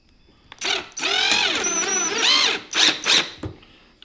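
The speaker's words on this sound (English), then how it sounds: "start sinking screws" A power drill drives screws into a bracket on a rustic wooden coat rack, with a couple of sustained whining runs whose pitch dips and rises, followed by short bursts.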